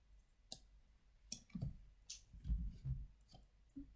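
Scattered computer keyboard keys click in short irregular bursts, fairly faint and close, with no talking.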